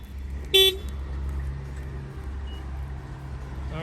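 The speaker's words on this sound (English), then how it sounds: "I'm gonna go ahead and bang on that rim so you can see when it fires off." A 2021 Honda Civic's alarm, set off by a shock sensor when the wheel rim is struck, gives a single short, sharp horn chirp. The car then sits quiet under a low outdoor hum.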